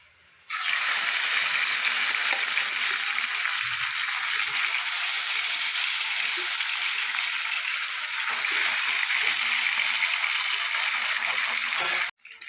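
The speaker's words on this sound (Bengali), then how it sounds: "বাকি মাছগুলো ভেজে নেব।" Fesa fish frying in a pan of hot oil, a dense, continuous spattering sizzle that starts abruptly, holds steady and close for about eleven seconds, then cuts off, with no speech over it.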